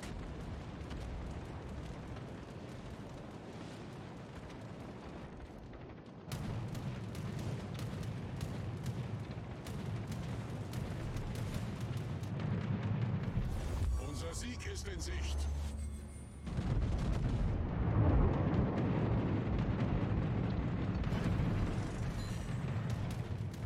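A gun fires in a tank video game, switching to HE shells, with loud booming shots and a sustained rumble over several seconds, with a raised blast mid-clip and game ambience throughout.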